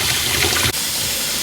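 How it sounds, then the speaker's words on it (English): Hot water gushing from a tap into a filling drain basin, a loud, steady, close hissing rush that continues with a brief dip midway. "The hot water is coming out, no problem. And this is filling up."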